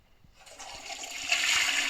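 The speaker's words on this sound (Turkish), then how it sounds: "Sifonla çekelim." A toilet flushes in the video game The Baby in Yellow, starting quietly and swelling into a rushing gurgle of water that grows louder and fills out toward the end.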